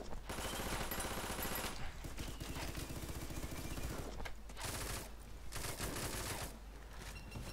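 Video game gunfire, long bursts of rapid automatic shots with brief pauses between volleys, loud and dense throughout.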